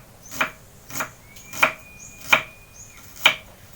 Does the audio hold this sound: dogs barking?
no